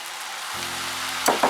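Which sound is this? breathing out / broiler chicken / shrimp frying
shrimp frying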